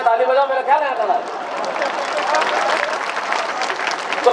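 An audience at a comedy gathering bursts into applause, dense clapping that starts over a fading voice and continues steadily to the end.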